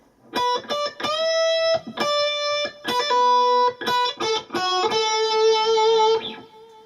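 Distorted electric guitar plays a 12-bar blues lick: a string of short picked and bent notes with brief gaps, ending on a sustained held note, loud and close with no talking.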